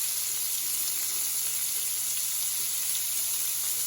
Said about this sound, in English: Let's let that bacon cook.